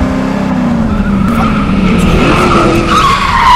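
A car skids while driving into oncoming traffic. Loud, sustained tyre squeal rides over a roaring engine, close and continuous throughout.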